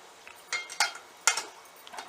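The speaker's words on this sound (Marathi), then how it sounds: "तर आता आपण हे खोबरं चांगलं मिक्स करून घेऊयात भाजीमध्ये" A metal spoon clinks and scrapes against a pan while grated coconut is stirred into a cooked vegetable dish of phodshi, a few distinct knocks spaced out over quiet background.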